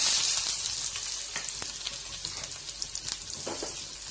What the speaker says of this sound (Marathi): कांदा थोडासा भाजून घ्यायचा आहे